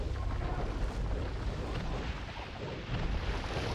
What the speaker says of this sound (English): Bombard cannons from Red. Bombard cannons from Idefix.